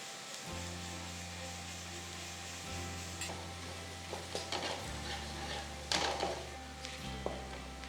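Kashmiri chilli powder fries with softened onions in a pan for dal, a quiet steady sizzle under a low humming drone, with occasional scrapes of stirring and a few small crackling bursts; no talking.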